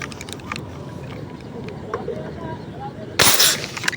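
A silver firecracker set off in Candaba gives one sharp, loud explosive bang near the end, alone after a stretch of quiet outdoor background with a little faint talk.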